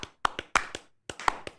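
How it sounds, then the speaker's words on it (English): A few sharp handclaps in an uneven burst, then a short pause and a second scattered run, sounding like a small, thin round of applause for the Miami Heat rather than a full crowd. "How about a round of applause for the Miami Heat?"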